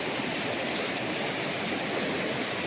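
Steady, dense roar of a flooded river in full spate, continuous and loud with no pauses.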